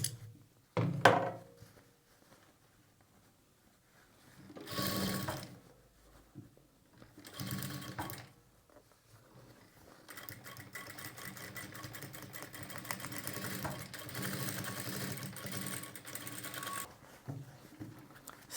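A sewing machine double-stitches and overlocks garment sleeves in several bursts: a short run, two brief mid-length runs, then a long continuous stretch of whirring stitching to the end, fairly close with quiet pauses between.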